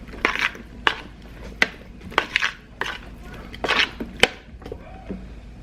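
Keto salad with mayonnaise and Parmesan being mixed in a bowl, a series of sharp clicks and scrapes of a utensil on the dish at an uneven pace, close and fairly quiet.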